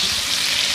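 Half a stick of butter sizzles and fries in a hot steak pan over rendered beef fat, a steady, dense crackle with no break, close and loud, with no one speaking.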